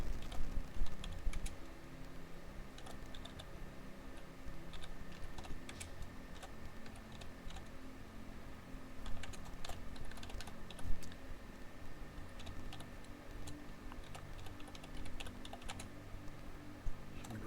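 Steady keystrokes on a computer keyboard during a Microsoft Word typing exercise, quiet and continuous over a low background hum, with occasional sharper clusters of keys.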